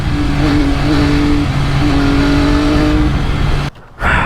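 A 2020 MV Agusta F3 800 RC motorcycle's exhaust crackles loudly as it accelerates, its engine note rising through sustained revs before cutting off abruptly near the end.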